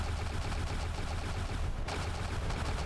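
A plasma cannon in the space combat game From the Depths fires in a rapid, dense stream, a loud continuous crackling barrage with one brief dip near the end.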